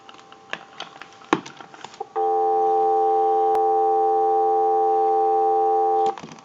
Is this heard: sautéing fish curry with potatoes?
no